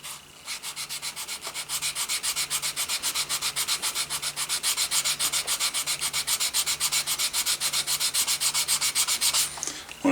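Leather knife sheath edge being burnished and sanded with 320 grit, a rapid, steady back-and-forth rasping rub repeated in even strokes, close and alone.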